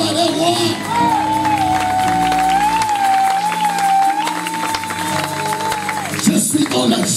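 A church congregation at a Sunday worship service cheers and applauds, a continuous loud crowd roar with clapping, shouts and a sustained voice rising above it throughout.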